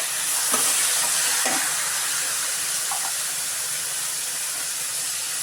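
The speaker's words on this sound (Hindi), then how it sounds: "टमाटर को डाल के इसको भी हम अच्छे से पहले भूनेंगे" Chopped tomatoes and onions fry in a pan for a mixed-vegetable chilli paratha filling, a loud steady hiss with a few faint scraping stirs.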